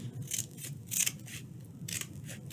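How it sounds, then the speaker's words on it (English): Scissors snipping through folded paper to cut out a heart shape, several crisp close cuts in an irregular rhythm, no speech. "I'm going to cut a big heart out of here."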